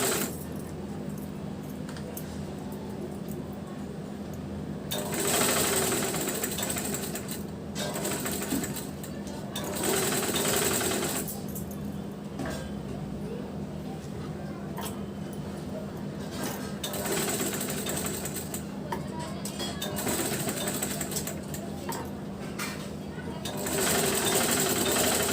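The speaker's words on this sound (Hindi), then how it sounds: "ये वाला बेल्ट भी हम सिल लेंगे। आधा इंच के मार्जिन से।" A sewing machine stitches a blouse belt with a half-inch margin in several rapid mechanical bursts separated by pauses, close and fairly loud, with a steady low hum beneath.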